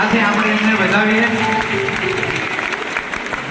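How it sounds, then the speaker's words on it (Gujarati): Audience applause at a seminar honouring ceremony in a hall, a dense, sustained patter of clapping that fills the whole clip, loud at first and easing slightly toward the end, with voices murmuring under it. "જોરદાર તાળીઓ સાથે આપણે એમને વધાવીએ"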